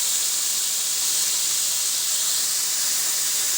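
Diced potatoes hitting hot oil in a pan for aalu posto give a steady, loud sizzling hiss that holds evenly from start to finish, close by and with no talk over it.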